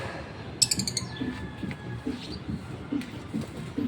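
A pet bird returned after months away: a few sharp high chirps early on over a quiet room, followed by soft scattered chirping and faint rustles.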